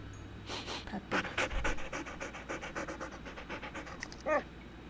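Dogs pant in a video game, several animals breathing in quick rhythmic huffs close by, with a faint whimper near the end and no talk over them.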